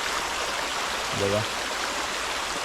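Water flowing in a stream deep in dense forest, a steady broadband rush running throughout, with a brief spoken word cutting in partway through.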